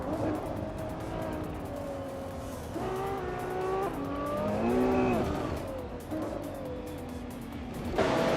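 A 1999 Mercedes-Benz CLK GTR race car in a racing video game roars steadily throughout, its engine pitch rising and falling through gear changes, with a loud rev surge near the end.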